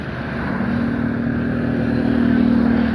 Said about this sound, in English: right in front of me there is police vehicle, of course, just passing here